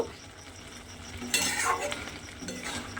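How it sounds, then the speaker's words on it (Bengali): Garam masala powder is stirred into a cauliflower and egg curry in a pan, a soft sizzle running under scraping spoon strokes, with one louder stir in the middle. "আমি তাও অল্প সামান্য একটু গুঁড়ো গরম মশলা দিয়ে দিলাম। দিয়ে খুব ভালোভাবে মিশিয়ে নেব।"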